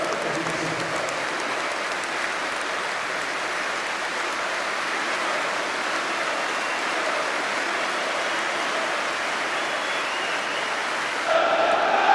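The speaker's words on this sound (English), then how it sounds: "there will be 1 minute's applause here at White Hart Lane" A football stadium crowd at White Hart Lane applauding steadily for a minute, a broad, even wash of clapping from thousands of spectators with no break.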